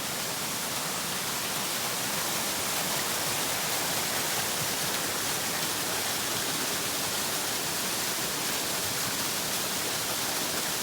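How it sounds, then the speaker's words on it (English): Waterfall on a mountain hiking trail, a steady dense broadband roar of falling water that stays constant and loud throughout, with no voices. "One of my favorite waterfalls on the trip. I hear it."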